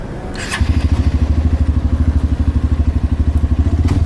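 A trail motorcycle engine starts after a brief crank, then settles into a loud, close, rhythmic idle thump that runs steadily to the end.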